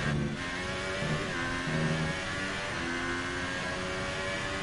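F1 car engine screaming at Interlagos in the F1 2018 racing game, a steady high-pitched whine held through a straight, loud and continuous with no talk.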